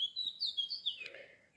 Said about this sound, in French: Un oiseau qui, j'ai l'impression, retranscrit en langage oiseau ce que je vous dis.